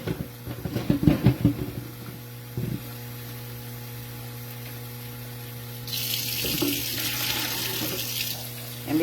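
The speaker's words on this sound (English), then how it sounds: "So I'll just throw all my stuff in the sink that I have to wash." Tap water pours steadily into a kitchen sink while pickles are being canned, a continuous hiss that swells louder toward the end, with a few clinks of dishes and utensils early on.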